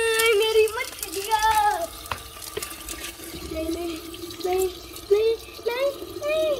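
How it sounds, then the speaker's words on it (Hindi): Tap water runs and splashes while the water for pet fish is being changed at home, an uneven flowing trickle beneath frequent talking voices. "की फिशेज का पानी चेंज कर रहे हैं"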